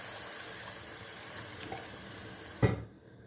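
Steady running water pours for a few seconds onto tamarind pulp, ending with a brief splash and clatter before cutting off to quiet.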